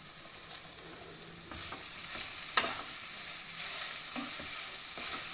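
Steady sizzling of grated tapioca frying in a pan, with occasional stirring scrapes and a sharp tap, no voices.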